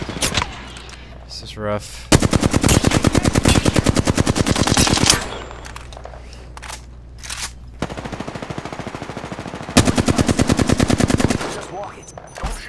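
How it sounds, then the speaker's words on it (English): Rapid automatic gunfire in Apex Legends, loud long bursts broken by short pauses and single shots, with a player talking over the shooting. "They're shooting at me."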